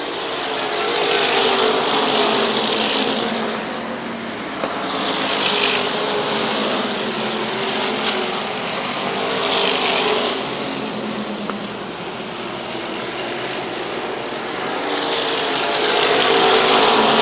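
SK Modified race cars roar around the oval at Waterford Speedbowl in a 1992 feature, loud engine drone swelling and fading as the field passes, continuous throughout with no talk.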